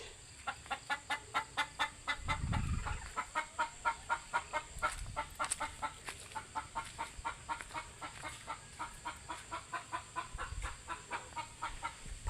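Chickens clucking steadily in close, rapid rhythmic bursts as they are fed, with a few low thumps mixed in and no talk.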